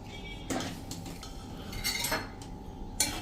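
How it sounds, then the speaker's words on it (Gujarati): A slotted metal ladle scrapes and clinks against a pot while boiled peanuts are lifted out in a kitchen, giving a few sharp, close metallic taps spread over a few seconds with a quiet background. "આ સિંગને આપણે આ રીતે જ ઝારામાં લઈ લેશું બધી"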